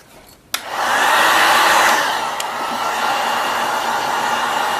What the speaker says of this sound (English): So just take your heat gun